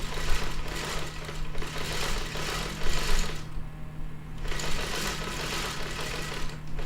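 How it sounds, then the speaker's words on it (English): A sewing machine runs in a steady close whir as it stitches a quilt seam downward from a V notch, pausing briefly partway through before carrying on at a moderate, even pace. "I'm going to come in from that little V notch and sew downward."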